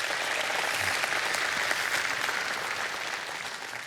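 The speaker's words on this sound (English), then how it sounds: "Let's give them a round of applause, please." A conference audience applauds the organizers with broad, dense, sustained clapping that holds steady and eases slightly toward the end.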